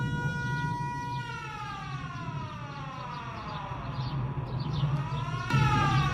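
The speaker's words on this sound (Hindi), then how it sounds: "हमलों के बाद बज रहे हैं एयर रेड अलर्ट सायरन" Air raid alert sirens wail after Iranian attacks in Bahrain, several overlapping rising and falling tones sounding steadily and at a distance over a low rumble of background noise, with no talking.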